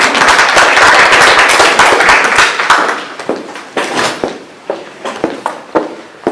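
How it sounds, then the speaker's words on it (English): Seminar audience clapping for volunteers, loud close applause that thins after a few seconds into a handful of separate scattered claps. "We'll give a round of applause for my volunteers."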